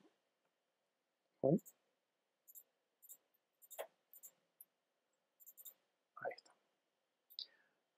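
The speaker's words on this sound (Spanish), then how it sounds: "Doble clic hago una opción, una acción que abre el documento." Quiet, crisp mouse clicks, mostly in quick pairs like double clicks, spaced apart with short murmured vocal sounds between them in an otherwise silent room.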